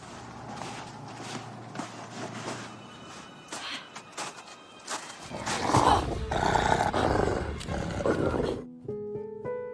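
Film scene of a wolf about to attack in a forest: low growling and rustling movement build into a loud, snarling roar-like surge, then cut off abruptly, with music entering at the end.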